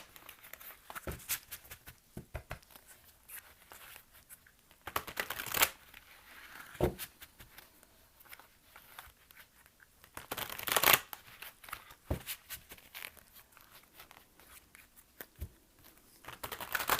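A deck of tarot cards is shuffled by hand over several seconds: soft riffling and flicking with a few louder bursts of rapid card slaps, close and intimate, with no talking.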